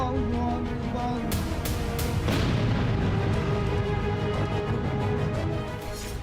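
Rocket explosions at the presidential palace in Kabul: a dense, loud rumble with several sharp broadband bursts, one larger blast-like crack, sustained noise throughout with no clear gaps.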